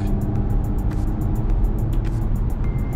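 An Audi A5 S line Quattro driving in sport mode, heard from the cabin as a steady, loud low engine and road rumble with no clear rev changes.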